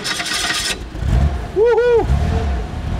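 Small home-built bee buggy forklift engine cranking and catching, a brief rising whine from the starter and engine over rough outdoor noise, with a voice speaking close by.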